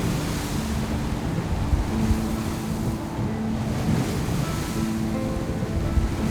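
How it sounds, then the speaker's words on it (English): A raging sea on the Lofoten Islands in Norway sends storm waves against a cabin while wind blows, a constant loud roar of surf and gusts with low rumbling thuds and no voices. "Outside, the once tranquil sea raged, with waves hitting our cabin."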